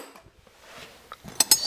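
Metal wrenches clink together as tools are packed, a few soft knocks building to two sharper, bright clinks at the end, close and brief.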